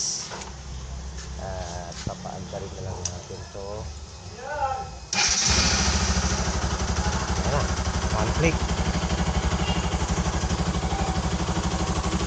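An RS200 motorcycle engine, freshly valve-adjusted, turns over and catches at about five seconds, then settles into a steady, loud, close idle with a faint head rattle; someone talks over it before it starts.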